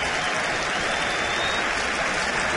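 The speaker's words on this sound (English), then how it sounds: "Here they are clapping in anticipation on a strike 2 count." A baseball crowd at a Kansas City at Washington game claps steadily in anticipation on a strike-two count, a dense, even wash of applause filling the stands.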